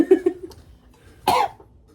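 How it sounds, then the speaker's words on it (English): A single short, harsh cough bursts out close by after a few brief vocal sounds. "Me when I cough."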